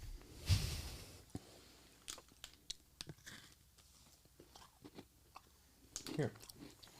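Someone chews a Twix chocolate bar close to a microphone, with scattered crunchy bites, wet smacks and clicks spread irregularly over several seconds, a louder crunch near the start and another burst near the end.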